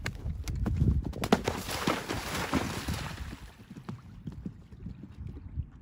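A horse's hooves thud and clip-clop across a jumping training course outdoors, heavy irregular footfalls up close with a rush of wind that fades as the strides move off.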